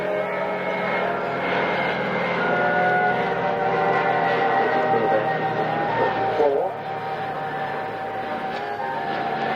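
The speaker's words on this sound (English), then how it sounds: "Coming in from your right, B-17G, the standard, the sort of maximum build. Big war B-17." A Boeing B-17G Flying Fortress, a four-engine World War II heavy bomber, drones past at the 1995 Biggin Hill Battle of Britain airshow, its steady propeller roar swelling and shifting pitch as it passes, with a commentator speaking faintly.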